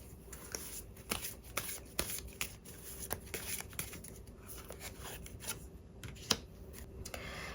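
Tarot cards shuffled by hand, a steady run of soft papery riffles and sharp slaps at close range, alone with no voice over it.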